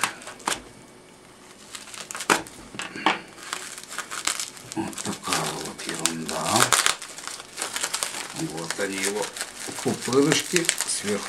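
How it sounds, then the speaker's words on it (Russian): An AliExpress parcel of tweezers, small drill chucks and a multimeter, wrapped in bubble wrap and sealed with tape, is opened: close crinkling, crackling and tearing of plastic come in bursts while someone talks over it. "Пупырышки сверху скотчем"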